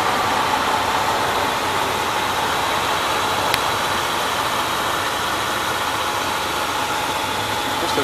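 A steady, rumbling 5.2-liter V8 engine in a 2001 Dodge Ram 1500 pickup idles continuously with an even drone and no changes in pace, heard up close with no voices.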